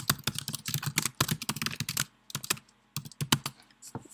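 Quick, uneven bursts of computer keyboard typing, close and fairly quiet, with short pauses between runs of keystrokes.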